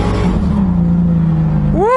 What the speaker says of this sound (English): That was wide open throttle.